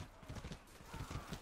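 Horse hooves clip-clop in the medieval combat video game Mordhau, a quick, quiet run of evenly spaced hoof strikes over a brief stretch.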